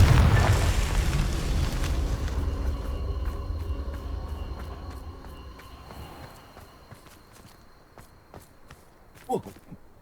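A Confringo fire spell blast in the Hogwarts Legacy video game bursts loudly at the start, then its roar fades over several seconds into quieter scattered clicks and steps, with one sharp knock near the end.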